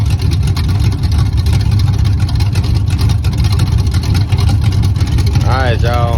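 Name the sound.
cammed small block Chevy 350 engine running in Chevy car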